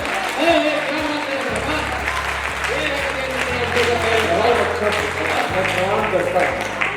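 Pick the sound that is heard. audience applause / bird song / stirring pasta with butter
audience applause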